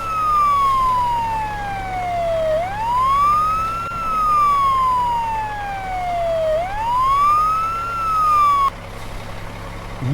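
A ladder fire truck's siren wails loudly and close, sweeping slowly down and back up in long repeated cycles, about two full rises and falls before it cuts off abruptly near the end.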